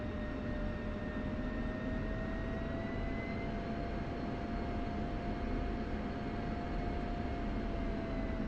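A military jet taxiing in the DCS flight simulator gives a continuous dense engine roar with steady high whines layered over it, unbroken throughout.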